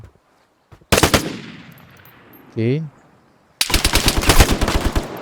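Gunfire in the online survival shooter Vigor: a long burst of rapid automatic shots, then a short pause with a brief tonal blip, then another loud, sustained volley of closely spaced shots.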